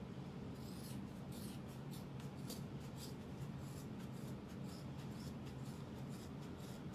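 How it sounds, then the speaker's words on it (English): Scissors trim the fabric seam allowances on a diamond clutch wallet, giving soft, close, repeated snips over a steady rustling hiss. "So let's trim these seam allowances."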